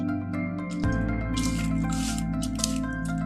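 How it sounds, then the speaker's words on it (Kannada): Hand mixing of basale greens and onion with salt and chili for pakoda batter gives close, wet squishing sounds over a steady background drone and hum, with no one talking. "ಇದನ್ನ ಈ ರೀತಿ ನಾನು ಕೈಯಲ್ಲೇ ಮಿಕ್ಸ್ ಮಾಡ್ಕೊಳ್ತಾ ಇದ್ದೀನಿ"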